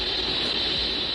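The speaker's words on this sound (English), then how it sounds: "But the horn antenna they're using picks up constant interference." Constant radio interference picked up by a horn antenna telescope, a steady broadband hiss like static with a bright hum band, unchanging and filling the whole moment with no pauses.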